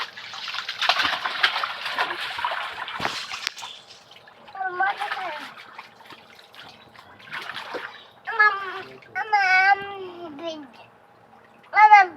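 A child splashes and paddles in bath water, with bursts of sloshing and splatter, then babbling and vocal sounds from the child while the water quiets down.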